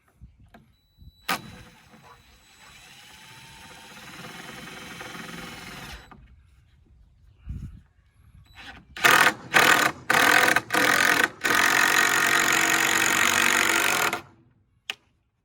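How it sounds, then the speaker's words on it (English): A power drill whirs in short bursts, then runs steadily as a screw drives into a wooden 2x4 for a raised garden bed, ending with a small sharp pop as the wood splits at the end. "we're going to screw it into the 2x4"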